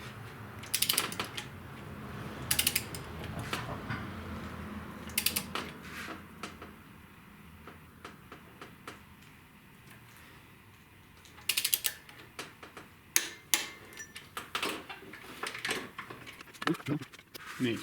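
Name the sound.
torque wrench clicking while tightening Subaru head bolts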